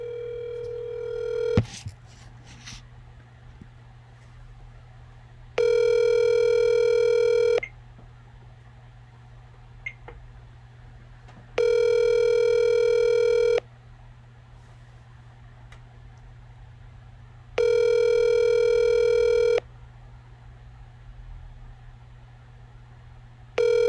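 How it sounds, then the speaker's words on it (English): A phone call placed through Siri on speakerphone: after a brief tick and a short tone at the start, ringback tones repeat in long, evenly spaced bursts over a faint steady hum. "Hey Siri, call Indy on speakerphone."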